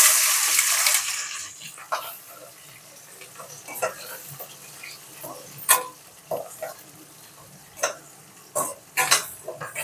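Onions and green chillies stirred in a pan with a spoon, light sizzling under scraping and clinking utensil hits that come in irregular bursts, close and moderately loud.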